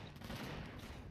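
Gun turrets blaze in Empyrion: Galactic Survival, a dense, steady rattle of rapid fire that fills the whole moment at low volume, with no pause between shots.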